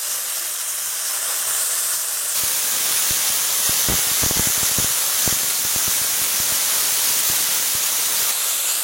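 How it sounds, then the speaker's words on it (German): Champignon mushrooms frying in a hot pan, a steady loud sizzling hiss with scattered scraping clicks as a spatula stirs them. "Ich helfe jetzt gerade noch mit dem Pfannenwender nach, dass auch wirklich alle schön angebraten sind."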